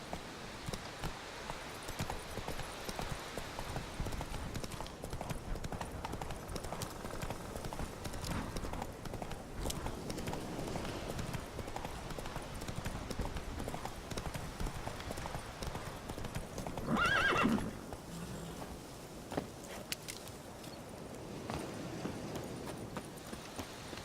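Roach the horse from The Witcher 3 moves along with soft, steady hoofbeats that stay fairly faint under ambient game sound, with a brief louder burst near the end.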